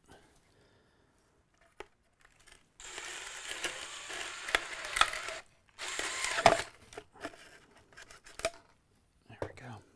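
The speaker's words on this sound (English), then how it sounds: "I'm going to just try drilling it from the other side." A power drill bores through the plastic case of an Arduboy game controller from the reverse side, whirring in two sustained bursts of a few seconds each with short ratcheting catches, close and fairly loud, followed by scattered handling clicks.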